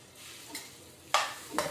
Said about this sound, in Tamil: இப்போ இதில் சாதம் போட்டு கலந்துடலாம்.